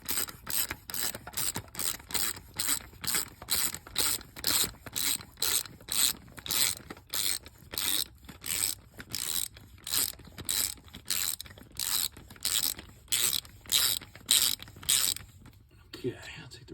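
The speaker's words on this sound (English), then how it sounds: "Okay, I'll take the ratchet off." A hand ratchet clicks in a steady, fast rhythm of close, loud strokes while loosening a bolt on the lower intake manifold of a 1995 Ford Mustang GT, then stops near the end.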